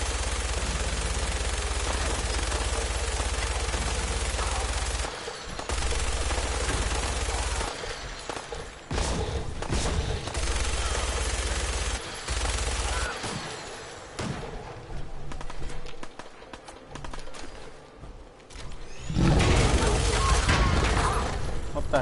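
Gunfire in the video game Fallout 4, loud bursts and rapid shots filling most of the span with brief lulls, a heavy blast near the end, and voices talking over the combat.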